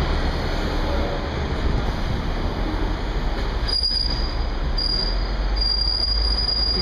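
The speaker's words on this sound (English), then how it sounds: "You can tell we're on a double-decker little tram thing." A Hong Kong double-decker tram rides along a street, its steady rumble of wheels and body filling the space nearby, with a thin high squeal from the rails coming in and out toward the end.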